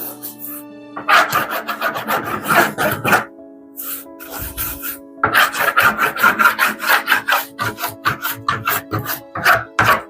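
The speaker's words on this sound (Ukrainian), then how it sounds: "і буду їх так само шліфувати" Sandpaper rasps against wooden boards in quick repeated strokes, close by, with a short lull partway through before the steady scraping resumes.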